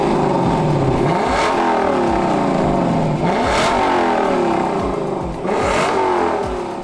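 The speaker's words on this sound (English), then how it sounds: "see what she sounds like with the stock exhaust" A Lexus LC500 with its stock exhaust revs close by in three strong blips, each engine note rising sharply then falling away, loud and unbroken with no voices.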